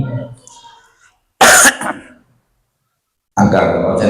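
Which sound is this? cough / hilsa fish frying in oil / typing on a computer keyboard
cough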